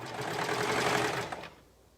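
A sewing machine stitching a shirt's shoulder seam that also joins the neckline, a fast steady mechanical whir of needle strokes up close for about a second and a half before it stops.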